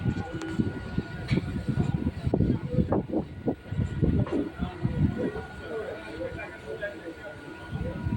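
Express train pulling into Howrah station from the Santragachi side, with a steady rumble of wheels and clattering rail joints beneath busy platform chatter and crowd noise.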